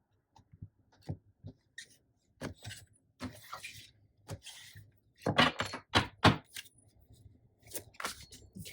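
Large tarot cards are shuffled up close in uneven bursts of riffling and slapping, with brief pauses between handfuls.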